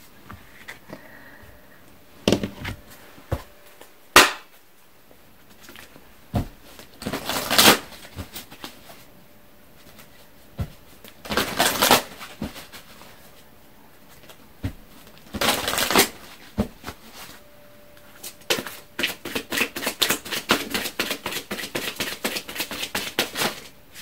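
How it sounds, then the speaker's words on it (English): A deck of angel advice cards is shuffled and drawn by hand, giving scattered dry slaps and rustles, then a fast run of crisp riffling clicks near the end, close by with no talking. "let me go ahead and pull some angel advice cards"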